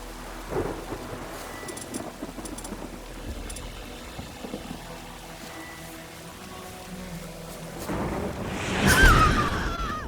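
A thunderstorm with steady rain and rolling thunder in The Witcher 3 video game, a constant rain hiss with a deep rumble building loudly near the end, with no talk.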